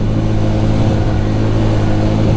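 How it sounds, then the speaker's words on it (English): A CF Moto Papio 125 mini motorcycle idles with a steady, loud, close thrum from its engine and exhaust, an even low rumble holding constant with no voices. "Bike sounds good, exhaust sounds good"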